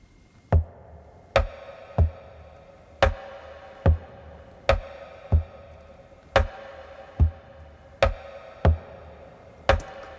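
Acoustic guitar body tapped by hand as percussion in a country pop song, a steady pulse of dull woody knocks, about a dozen evenly spaced hits, close and alone.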